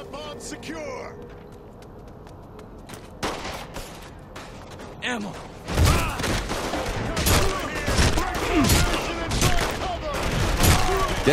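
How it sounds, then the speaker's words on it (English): Bursts of gunfire in Saints Row The Third, loud and rapid, in repeated volleys that fill the second half, with a quieter stretch at the start. "Shooting them probably doesn't help change their minds."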